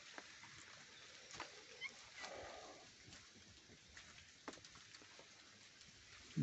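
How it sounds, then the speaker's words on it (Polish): Rain falls steadily as a faint, even hiss with scattered drop taps, heard from indoors while young cats play nearby, and a brief louder knock near the end. "deszcze padają"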